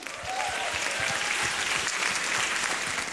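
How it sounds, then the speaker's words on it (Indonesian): An audience applauds at a stand-up comedy show in Indonesia, a dense and steady clapping that rises quickly and holds for about three seconds, with no voices over it. "Tepuk tangan dong."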